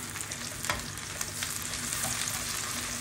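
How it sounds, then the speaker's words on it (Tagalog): Buffalo wings frying in a pan as they are stirred, a dense close sizzle with light irregular scrapes and knocks of the utensil. "Haluin natin to."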